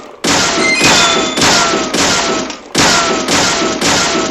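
Gunfire in the video game Deadly Premonition: a run of loud, broadband bursts, each sustained for about half a second, following each other with short gaps, close and dominant with no voices over them.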